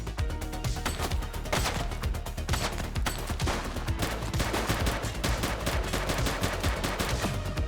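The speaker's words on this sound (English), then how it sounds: "He's shooting!" Sustained video game gunfire from a shooting suspect in a police game: dense rapid shots crack continuously with no pauses, loud and close throughout.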